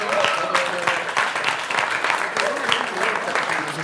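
Sustained applause from an audience at a national sommelier competition in Estonia, steady dense clapping throughout with voices murmuring underneath.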